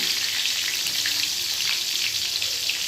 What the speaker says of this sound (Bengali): পটলগুলো সবাই আমি ভেজে নেব